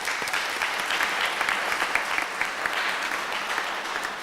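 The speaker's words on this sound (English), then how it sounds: "Rick, we want to give you a round of applause" A crowd at a program kickoff event gives a steady round of applause, dense and sustained clapping from many hands throughout with no break.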